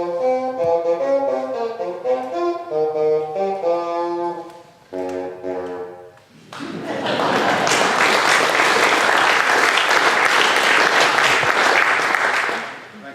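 A tenoroon, a small tenor bassoon pitched in F and slightly larger than a mini bassoon, plays a loud solo melodic line of reedy sustained notes, then stops as a burst of applause from an audience fills the rest.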